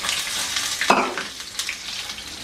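Olive oil sizzles in a smoking-hot pan, a steady bright hiss that flares into a louder spitting burst partway through before settling back to an even sizzle.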